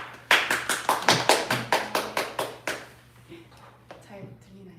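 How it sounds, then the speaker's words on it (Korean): Sharp, evenly spaced claps ring out close by at a lecture hall book talk as the author is welcomed, about a dozen strong beats that taper off into quiet room noise with a faint voice. "네, 박수로 맞아주세요."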